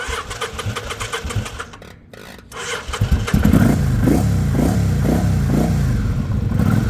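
A 1985 motorcycle with the choke on: a few sputtering cranks and a brief pause before the engine catches, then a loud, close, rough idle with rhythmic throbbing pulses.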